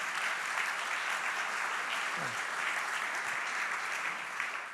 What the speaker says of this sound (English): So a big clap for everybody who were involved in creating this